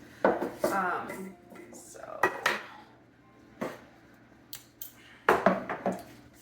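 Small metal measuring spoons clinking together in a home kitchen, a few sharp, bright jingles scattered across the moment, close and fairly quiet, with a brief voice at the start.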